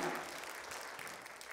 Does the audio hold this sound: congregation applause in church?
yes